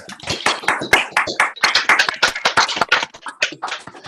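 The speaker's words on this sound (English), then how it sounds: "give a big round of applause" Scattered clapping from a small group, uneven and slightly overlapping, close by and fairly loud, lasting a few seconds.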